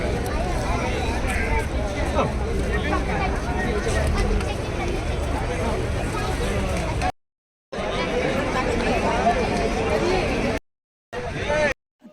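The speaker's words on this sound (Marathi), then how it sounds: "आता संध्याकाळच्या वेळेस आहे ना खूप गर्दी आहे" Busy evening crowd at the Gateway of India in Mumbai by the sea, a dense babble of many voices and chatter with a person talking nearby, briefly dropping out twice.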